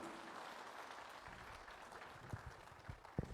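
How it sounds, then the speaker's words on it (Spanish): A church congregation applauds during a sermon, a faint, steady wash of many hands clapping with a few sharper, closer claps standing out toward the end. "Dale un aplauso al Señor."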